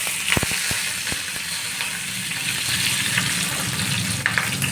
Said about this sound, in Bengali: এইবার আমি তেজপাতা, কাঁচা লঙ্কা কুচি, শুকনো লঙ্কা আর গরম মশলাটা দিয়ে দিলাম